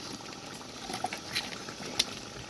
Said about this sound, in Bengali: ঘরে না বসাইয়া চুলাই বসাই দিলাম চুলাই না বসাইলে তো দেখা যাইতেছে মাংসটা সেইভাবে সিদ্ধ হয় না